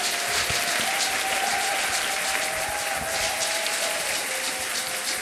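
A church congregation breaks into sustained applause during a Sunday service, a dense, steady wall of clapping with a faint crowd murmur and a held musical tone underneath, loud and continuous throughout.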